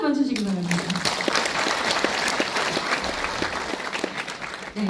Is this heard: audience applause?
yes